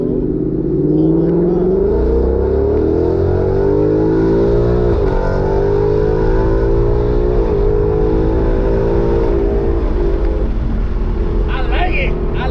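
A Ford Mustang fitted with a Corsa exhaust revs hard and steadily, its deep rumbling tone climbing and falling through repeated throttle blips, with people talking excitedly over it throughout.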